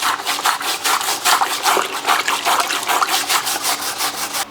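A leather car seat being scrubbed clean in fast, even back-and-forth strokes, each one a loud rasping swish repeating in a steady rhythm with no pauses.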